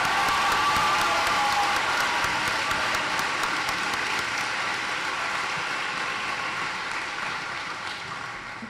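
Graduation ceremony audience applauding at a high school commencement, a sustained broad wash of clapping with faint cheers, loud at first and slowly tapering off.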